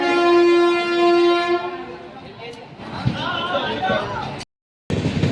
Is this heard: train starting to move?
yes